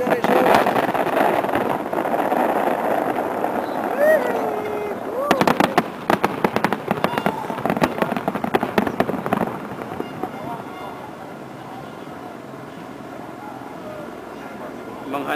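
Crowd voices at first, then a rapid string of sharp firework bangs and crackles for several seconds before fading into a steady outdoor hum.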